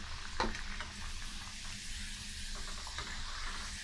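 Kothimbir wadi, traditional Maharashtrian coriander fritters, frying in hot oil, a soft steady sizzle with a few faint clinks, quiet and continuous without speech.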